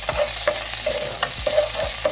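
Garlic hitting hot oil in a curry pan, a loud, steady sizzle with repeated spatula strokes scraping across the pan.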